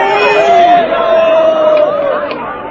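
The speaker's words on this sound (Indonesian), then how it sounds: "calon prajurit yang akan diwisuda itu mendapatkan tepukan yang meriah" A crowd cheers loudly for soldier candidates at a graduation ceremony, with massed voices shouting and whooping in a sustained roar close by.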